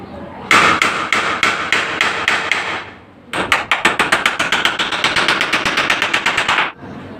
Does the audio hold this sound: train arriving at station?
no